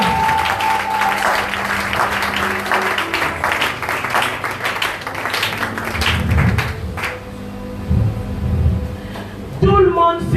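A church congregation claps along in steady rhythm during worship, loud and close, with a sung or spoken voice carrying over the applause and clapping continuing in bursts to the end.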